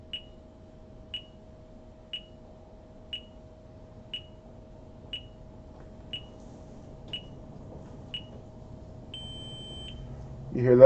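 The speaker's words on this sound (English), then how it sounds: "You hear that? That's the timer" An RC quadcopter radio transmitter's timer gives short, high beeps evenly spaced about once a second, ten in a row, then a brief longer tone as motor noise rises loudly at the end.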